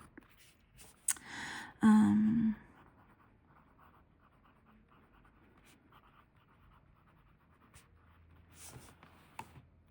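A TWSBI Mini fountain pen nib scratches across paper in short bursts of writing strokes, close and quiet, with a louder rustle early on and faint shuffling between strokes; no speech.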